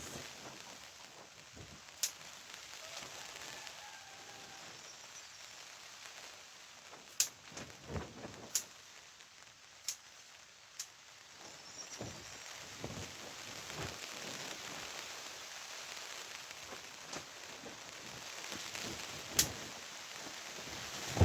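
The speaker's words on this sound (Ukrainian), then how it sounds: "О, знову починається дощ." Steady, soft rain patters outdoors with scattered louder drips and taps, continuous and fairly distant throughout.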